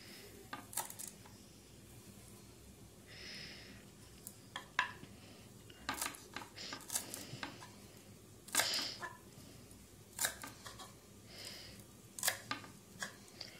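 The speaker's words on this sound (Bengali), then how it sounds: "ধনেপাতাটা কেটে নেব কুচো কুচো করে" Coriander leaves being chopped finely on a board, scattered sharp knife taps in short irregular bursts over a quiet kitchen background, faint and close.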